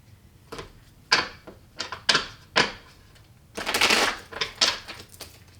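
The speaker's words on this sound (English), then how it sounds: "I'm going to have to shuffle." Tarot cards shuffled by hand in separate bursts: several sharp slaps and riffles, then a longer flurry of card noise and a few closing taps, with no speech.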